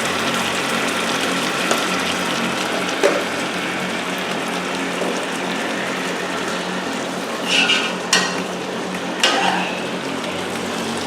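Chicken biryani masala fries with chili powder stirred in, a loud, continuous close sizzle broken by a few brief scraping stirs near the end.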